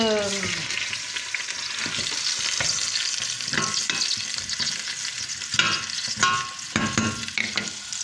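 Minced beef steaks sizzle loudly in a pan for tomato meat sauce, a constant crackling fry with occasional scrapes and stirring clatter, no talk.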